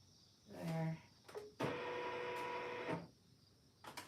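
An embroidery machine stitches during a sewing project, its steady mechanical whir with a fine buzzing overtone running for over a second, after a brief earlier burst and a short stop.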